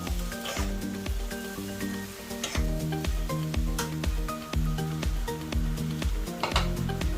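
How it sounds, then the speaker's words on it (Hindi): Vegetables and paneer sizzling in a pan over a high gas flame, a steady crackle running beneath louder background music with a regular beat. "तो गैस को कर लेते हैं हाई, इनको थोड़ा सा पकने देंगे।"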